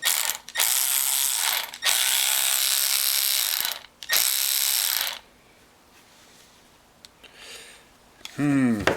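A Milwaukee 12 volt 3/8 inch cordless ratchet runs in several close, loud whirring bursts separated by short pauses, then goes quiet as someone talks briefly at the end.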